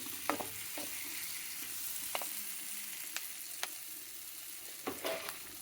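Bell pepper (capsicum) frying in a pan for chutney, a soft continuous sizzle broken by occasional sharp spatula clicks and scrapes against the pan, close up with no talking.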